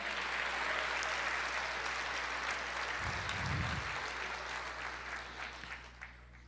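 A large church congregation claps continuously in sustained, dense applause during an Easter service that swells and lingers, with faint cheers mixed in.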